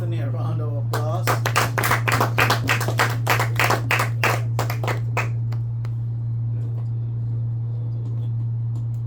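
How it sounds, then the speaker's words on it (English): In a math classroom, students clap for a few seconds in a brisk round of applause that then tapers off, with a steady low electrical hum underneath. "Shall we give Anthony a round of applause?"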